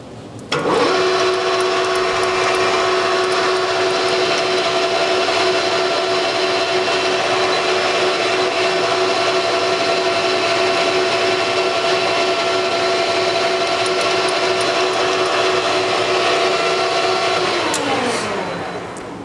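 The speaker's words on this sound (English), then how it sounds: "First thing we are going to do is center drill so that our drill does not lead off." A steady lathe whine with a constant tone, center drilling aluminum, runs for many seconds, close and loud, then winds down at the end.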